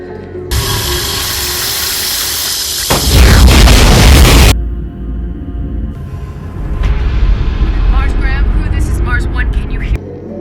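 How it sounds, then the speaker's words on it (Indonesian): A cinematic explosion from the science-fiction film Red Planet, where fire is thrown onto a swarm of insects and ignites algae-covered ground: a loud, broad roaring blast that surges and fades, mixed with a music-heavy soundtrack. "melemparkan api ke dalam tumpukan serangga itu dan meledakkan hampir seluruh daratan yang dilapisi oleh ganggang"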